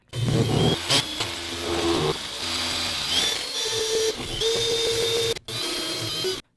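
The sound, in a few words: Reed internal pipe cutter cutting a pipe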